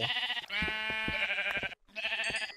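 Sheep bleating in Minecraft, two loud, wavering blocky bleats close up, separated by a short silent gap, with no talking over them.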